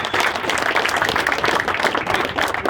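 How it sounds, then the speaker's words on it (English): A crowd at a New York civic gathering gives labor workers a round of applause: dense, continuous clapping, loud and close, filling the whole stretch without pause. "give labor a round of applause for showing up"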